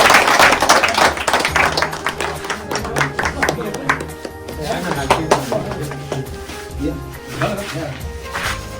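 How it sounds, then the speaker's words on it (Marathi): An audience at a temple felicitation ceremony claps loudly, a burst of applause that rises, thins into scattered claps, and swells again, with voices talking through it. "त्या व्यक्तीला मी विनंती करतो टाळ्या वाजवा"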